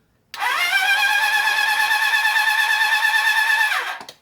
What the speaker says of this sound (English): I'm just sort of checking the oil pressure and running the engine